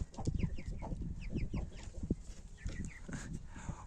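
Chickens and roosters in a farmyard flock, a busy close stream of overlapping clucks and short squawks, fairly quiet overall with no talking.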